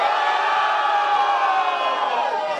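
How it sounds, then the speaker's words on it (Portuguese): A crowd at a rap battle in Londrina cheers and shouts without pause, a dense, loud roar of many voices with whoops that stays steady the whole time. "Faz barulho."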